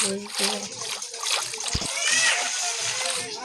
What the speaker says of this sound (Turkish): Arkadaşlar bunu suluyoruz.